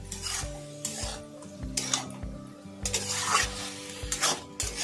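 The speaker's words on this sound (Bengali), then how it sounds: "এবার শাকের সঙ্গে মিশিয়ে দেবো" Greens and crab with fried gayna bori are stirred in a metal pan: repeated scraping, rubbing strokes of a utensil against the pan in a steady rhythm, close and moderately loud, with a faint sizzle underneath and no talking.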